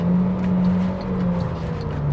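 An MG5 Pro with a 1.5-litre naturally aspirated 114-horsepower engine accelerates hard, a steady loud engine drone with a rising, shifting pitch heard from inside the car, without speech.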